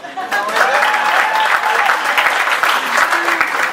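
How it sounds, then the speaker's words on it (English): An audience gives Joe Egli a lively round of applause at a Merchant of the Year event, close, full clapping sustained for several seconds with voices mixed into the crowd. "Clap if you'd like Joe to give a speech."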